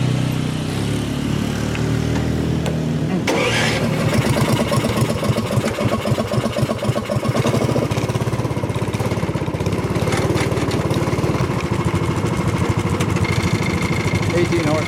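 Restored Silver Fox go kart small engine running steadily throughout a trail ride, a loud buzzing drone with rising throttle around the middle, with people talking over it.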